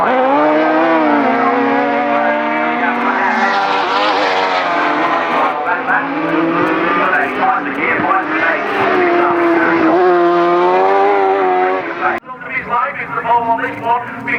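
Rallycross race cars, including a Citroen Saxo, racing around Croft circuit at a British Championship round, engines whining and shifting pitch as they pass, heard under continuous commentary.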